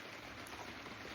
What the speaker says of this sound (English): it is pouring raining outside